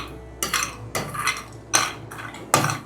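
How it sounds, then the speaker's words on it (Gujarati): Peanuts tipped into hot ghee in a pan, heard as four separate rattling clatters of nuts and a metal spoon against the pan, each burst short and close. "પછી સિંગદાણા નાખી દઈએ"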